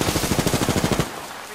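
Rapid automatic gunfire from a weapon in Apex Legends, about fourteen loud, close shots in an even burst lasting around a second, then it stops.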